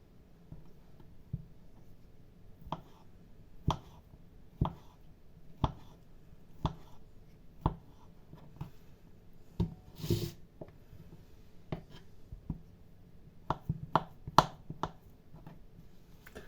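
A knife cuts boiled potatoes in their skins into cubes on a board, giving soft, irregularly spaced taps and thuds, close and faint, with no talk.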